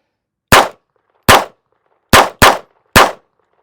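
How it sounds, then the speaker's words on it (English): Five sharp, loud cracks from an unsuppressed Walther PPK .22 caliber pistol, fired close by at an uneven pace with a quick double near the end, each a dry snap with brief decay and silence between. "next up we have the Walther PPK in 22 caliber with no suppressor on it. Let's shoot that."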